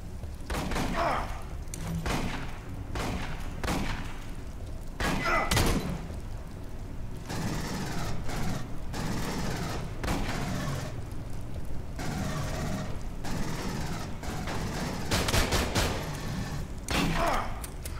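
Gunfire in the Aliens Colonial Marines video game, repeated sharp bursts and thuds spread irregularly across the clip, with loud clustered volleys over continuous game noise.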